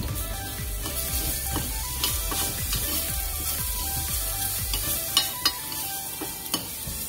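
Okra and prawns sizzle steadily in a pan with garam masala just added, a dense continuous fry broken by occasional scraping and clicking from stirring, close up and with no talk.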